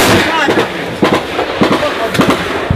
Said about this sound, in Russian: Работает снайпер, блин.